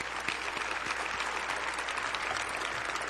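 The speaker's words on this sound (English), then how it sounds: "Ladies and gentlemen, I think that deserves an applause." Steady, moderately loud audience applause fills a hall during a 2011 State of Downtown address, continuous clapping from many hands with no voices over it.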